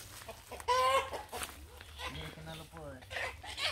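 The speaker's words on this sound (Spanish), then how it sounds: "aquí los pollos están robando" Chickens clucking near a mango tree being harvested, a few short clucks and squawks heard close by while people talk over them.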